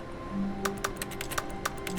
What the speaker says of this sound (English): Oh, that's the keyboard.